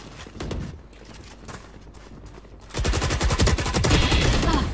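Gunfire in the video game Valorant, with scattered shots at first and then a dense, loud burst of rapid automatic fire that keeps rattling to the end.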